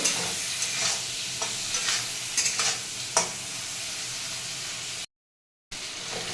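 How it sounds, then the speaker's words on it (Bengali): Steady sizzling of shrimp frying in hot oil, broadband and continuous, with a few brief stirring scrapes and a short dropout near the end. "চিংড়ি মাছটা ভালো করে ভেজে নেব।"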